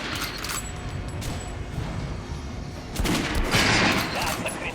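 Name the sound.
gunshots at armored target in Metro Last Light video game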